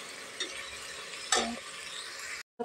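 Eggplant coated in masala roasts in a pan, giving a steady broadband sizzle with a few sharp stirring scrapes, one louder scrape midway, then a brief silence before the sizzle resumes.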